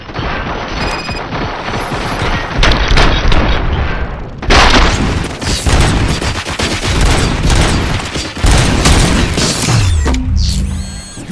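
Heavy sustained gunfire and booming blasts from the video game RoboCop: Rogue City, loud and dense bursts rolling across about eleven seconds with brief drops between volleys and a mechanical whir near the end.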